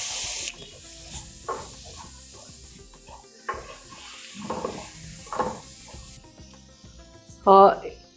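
Chopped tomatoes sizzle steadily in a hot pan for masala dhal while a spoon stirs and scrapes, with a person talking over it and a brief loud clatter near the end.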